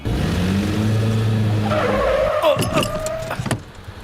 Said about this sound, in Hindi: गाड़ी क्यों रोकी?